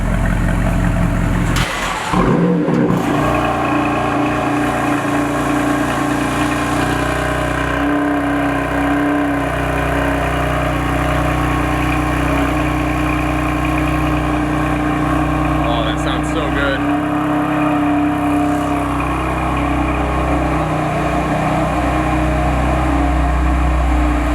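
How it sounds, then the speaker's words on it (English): Naturally aspirated V8 of a Mercedes-Benz CLK63 AMG Black Series with carbon fiber rear diffuser, a steady loud engine drone and rumble throughout with a brief rev near the start, on the road at Cars and Coffee. "That's a great sounding, naturally aspirated V8."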